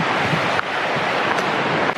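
A fast-flowing mountain river near a waterfall rushes in a steady, loud, broadband roar with no breaks and no voices.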